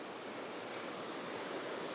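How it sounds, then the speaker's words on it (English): A river on Dartmoor in winter rushes steadily nearby, a soft, even wash of flowing water with no voices over it. "I'm down by the river somewhere on Dartmoor"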